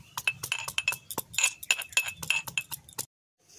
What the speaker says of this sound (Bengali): এবার আমি মশলাটা এটা একটু থেতো করে নিচ্ছি।